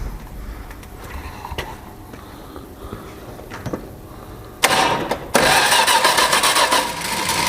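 An old Plymouth Valiant car engine cranks and then catches, a sudden loud roar of the starting engine cutting in after a quiet stretch of faint clicks and then running steadily and close.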